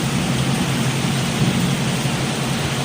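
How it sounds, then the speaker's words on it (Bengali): Fairly heavy rain falls outdoors, only a little of it reaching a sheltered spot where birds bathe, making a steady, even hiss with a low rumbling wash throughout, no voices over it. "মোটামুটি অনেক বৃষ্টি হচ্ছে, অল্প অল্প এখানে আসতেছে"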